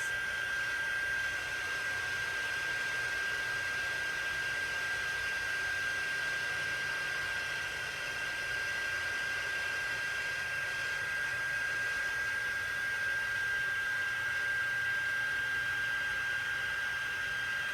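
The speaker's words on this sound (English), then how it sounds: "once you get the heat tool hot enough, you don't have to swivel like this" A heat embossing tool blows hot air in a continuous, even whooshing hiss with a steady high whine, close and unbroken throughout.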